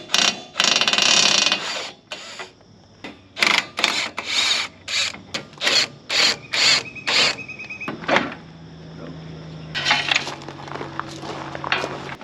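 A socket wrench ratchets in short bursts of clicking while square nuts are loosened on a 1931 Ford Model A, the bursts separated by brief pauses and a few clanks, close and fairly loud.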